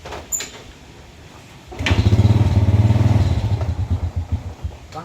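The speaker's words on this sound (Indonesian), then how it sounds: "Tuh, mesinnya halus ya, diputerin mas." A second-hand motorcycle's electric starter whirs briefly, then the engine fires and settles into a close, smooth, rhythmic idle that pulses steadily, with faint background voices around it.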